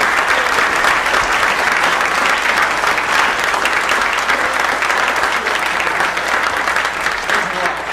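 An audience applauds Vince Palamara after his JFK assassination Secret Service presentation, loud continuous clapping from a crowd filling the room throughout.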